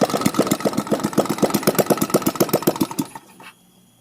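A small carbureted engine with an open header runs loud and close in rapid, regular firing pulses for about three seconds, then sputters and dies into near silence.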